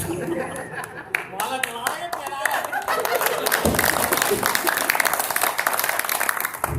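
An audience at a Hindi poetry recital claps, with a voice and a few chuckles at first, then applause swelling into loud, sustained clapping from the crowd.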